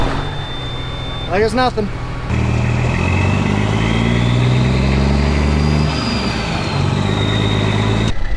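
A tractor engine turns over and catches, then settles into a steady, deep, close rumble. A voice speaks briefly just before the start.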